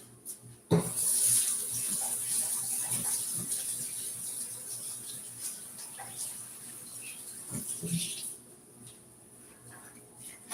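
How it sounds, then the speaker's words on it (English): Kitchen tap water runs steadily into a sink while hands are washed before baking chocolate brownies, loud and close. It starts abruptly, then splashes and gurgles for several seconds before being shut off. "Wash hands."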